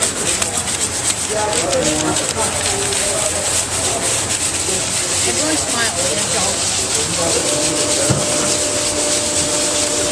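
Steady scraping friction of sandpaper on a wooden pole for a coaster project, continuous and close, with people chatting and laughing over it.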